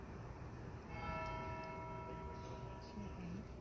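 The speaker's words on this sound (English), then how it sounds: "Is anybody counting the bells?" Church bells ringing in the distance, steady sustained tones that stay faint beneath background noise and a low murmur of voices.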